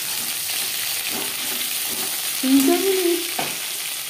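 Pieces of pointed gourd (potol) fry in a pan of hot oil with a steady, close sizzle. Soft stirring sounds break through it now and then.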